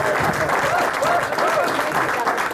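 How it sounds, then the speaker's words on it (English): A comedy club crowd applauds as a comedian takes the stage, with steady, full clapping throughout and faint voices and cheers mixed into the noise. "Hands together, come and make some noise for Timothy Ribbons"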